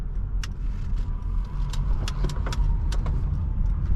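A 2004 Honda Accord EX-L V6 swings through a U-turn, heard from inside the cabin as a steady low engine and road rumble with a few faint clicks and ticks over the top and no voices.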